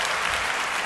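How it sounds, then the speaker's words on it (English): Applause breaks out for a guest on a podcast, a brief, dense burst of clapping heard close and steady throughout. "Get that motherfucker some fucking applause."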